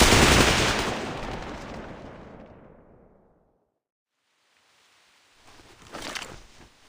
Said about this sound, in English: Attention! Ready! Aim! Fire!